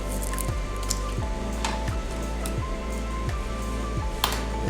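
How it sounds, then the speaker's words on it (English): Chef's knife slicing down the sides of half an onion and peeling off the layers for a chunky-cut taco salad, giving regular soft squishy cuts and faint crackly peels close by on a cutting board. "I cut down the sides. Peel off those sides."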